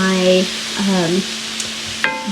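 Corn is stirred into a pot of taco soup over low-medium heat, with a spoon scraping and a soft sizzle under a few tonal, voice-like hums.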